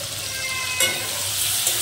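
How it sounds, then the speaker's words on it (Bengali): Turmeric and dry chili powder fry in a pan for a Bengali prawn and ol stalk dish, giving a steady close hiss with a couple of brief scraping stirs and no talk. "এটাকে আমি সুন্দর করে কষে নেব"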